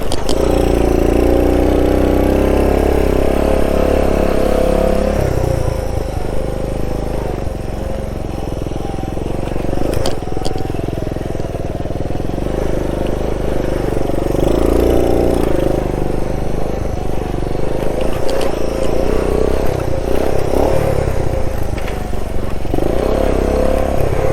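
A 1969 Honda Trail CT90 motorcycle engine drones loudly and steadily through a desert ride, rising and falling a little with throttle, with wind noise and brief bits of the rider's voice.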